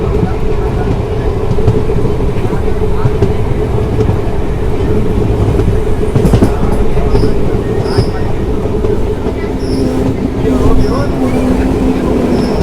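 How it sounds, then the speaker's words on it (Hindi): The Ahmedabad–Jammu Tawi Express runs through Punjab farm fields, heard from inside a sleeper class coach as a loud, steady rumble with wheel clatter and occasional faint squeals; a voice may murmur beneath the noise. "और बीच से निकलती ट्रेन।"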